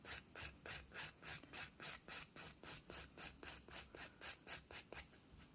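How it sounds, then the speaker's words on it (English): A nail file rasps back and forth on a hard gel nail extension, quick rhythmic close strokes repeating evenly at a soft level. "I want to keep filing until all of the sections have been touched by the file"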